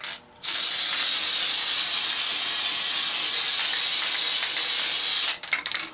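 Aerosol spray can hissing onto a glass-fusing texture plate, a steady loud hiss lasting about five seconds with brief rattling at the start and end.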